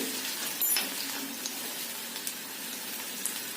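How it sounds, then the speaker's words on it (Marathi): Ginger pieces, garlic and cumin sautéing in a pan over low heat give a soft, steady sizzle with scattered faint crackles, quiet and close, with no voices. "आल्याचे तुकडे छानसं परतून घ्यायचं"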